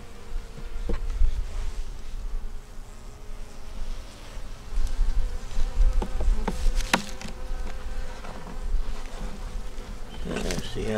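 Steady buzzing of many honeybees around a small nuc hive during an inspection fills the air close by, with a few knocks and handling sounds breaking through now and then.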